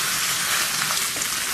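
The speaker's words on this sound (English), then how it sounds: "Love the sizzle." Kalbi beef sizzles on a Korean grill, a steady close hiss and crackle of searing meat without talk.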